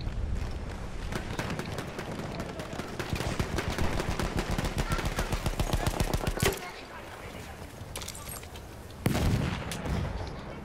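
Rapid automatic gunfire in the shooter Battlefield 1 rattles out in a dense, sustained burst for several seconds, then cuts off, with a second loud shot or burst near the end.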